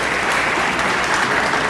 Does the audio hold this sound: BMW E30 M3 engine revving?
no